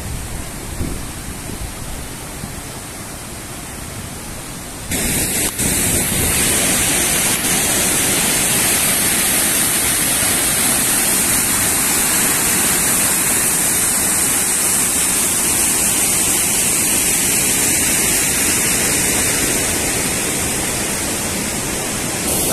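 Loud, steady roar of river water rushing through the dam gates on the Mayo river, quieter for the first few seconds and then a dense, continuous torrent without talk.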